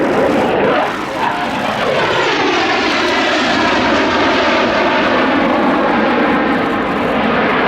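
Two French Navy Rafale jets roar past at an air show, a loud, steady, broadband engine rumble with a sweeping pitch shift as they pass, continuous for several seconds with no talk.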